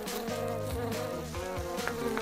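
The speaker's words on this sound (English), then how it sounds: "Ah, bees are here. They're buzzing." Bees drawn to a honey-scented bath buzz close by, a dense, wavering drone with shifting pitch that carries on without pause for a couple of seconds.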